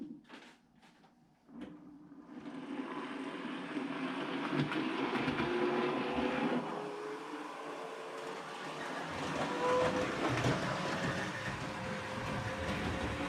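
A model railway locomotive runs steadily around a layout, giving a continuous close-up rumble and whir that rises slightly and holds for several seconds after a few light clicks at the start.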